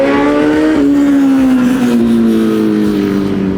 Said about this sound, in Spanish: dejemos que pase esta moto